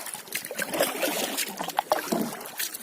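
Kayak paddling on the Dniester river on a sunny day with a light tailwind: water trickles and splashes in uneven strokes close by, with soft dripping between them.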